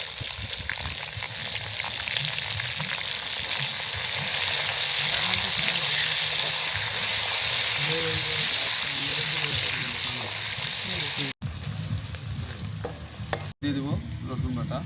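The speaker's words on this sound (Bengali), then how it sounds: "এরপরে দিয়ে দেবো পেঁয়াজ কুচি," Chopped onion hits a hot kadai with whole cumin for broiler chicken bhuna, giving a steady, loud sizzle and fry with stirring scrapes; the frying carries on alone for the whole stretch, with two sharp breaks near the end.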